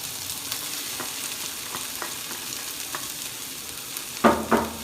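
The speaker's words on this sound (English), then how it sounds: "now we're gonna add those peppers and onions" Peppers and onions tossed into a pan of frying potatoes for a potato hash, with a soft sizzle and light scraping that swell into a louder burst of crackling as the vegetables land.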